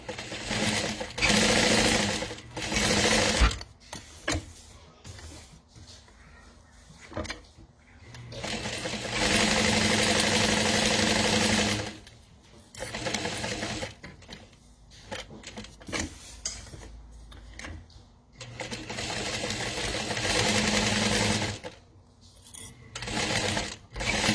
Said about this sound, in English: I'm going to start basting all the way down